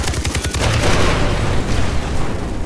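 Rapid bursts of gunfire in the Far Cry 3 co-op shooter, loud and dense, with a quick string of shots opening the clip before sustained firing and booming echoes continue throughout.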